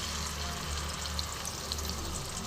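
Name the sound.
dried chili and cumin paste frying in oil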